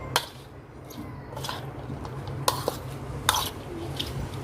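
Bitter gourd (karela) is tossed and mixed by hand with spices and ingredients in a bowl, giving soft scattered rustles and a few sharp clicks against the dish, close and quiet.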